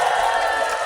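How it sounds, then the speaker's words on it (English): A church group cheers for Team A during a game, a short, loud burst of mixed voices shouting and whooping close by. "can I hear some cheering over here for Team A?"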